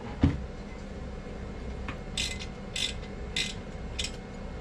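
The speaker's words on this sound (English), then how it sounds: "We're going to have some Allen head screws right here, and we're just going to go ahead and release those." An Allen key loosens the Allen head screws on a Chinese diesel heater, giving a single knock followed by four brief metallic ratcheting clicks at steady intervals, close and fairly quiet against a faint background hum.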